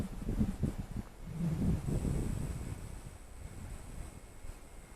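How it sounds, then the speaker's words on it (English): Wind blowing outdoors during an Eachine E130 RC helicopter test flight, a steady rumbling gust buffeting the microphone, loud and continuous with no talk. "It's going to be slow going against the wind here."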